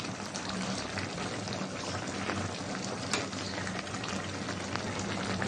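Young hilsa fish sizzles in a pan with dudhman kochu (taro), a dense, steady frying crackle that stays loud and even throughout, with no voices.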